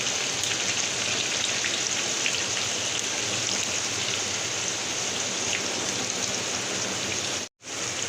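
Sliced onions sizzle in hot oil over a high flame, producing a dense, even hiss that stays loud and close throughout, with one brief dropout near the end and no voices.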